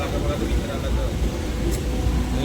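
Loud, steady rumble of a train moving after leaving Mumbai Chhatrapati Shivaji Maharaj station, heard from inside, with a person talking over it.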